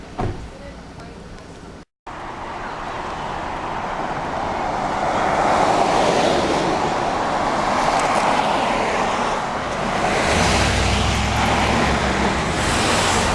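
Road traffic passes near Lake George, a continuous roar of cars and motor vehicles that swells and eases as vehicles go by, loud and close, with a brief dropout near the start.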